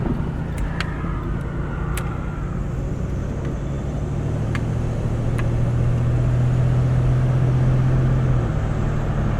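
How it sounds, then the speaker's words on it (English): A 1982 Studebaker Avanti II cruising on the road, with a steady, smooth engine drone and road noise throughout, a low engine note rising briefly in the middle and a few faint clicks. "It's actually a wonderful car to cruise in."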